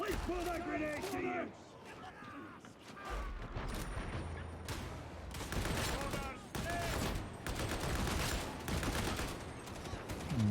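Bursts of rapid automatic gunfire from a machine gun in a video game, clustered volleys of sharp cracks recurring through the scene, with someone talking at the start.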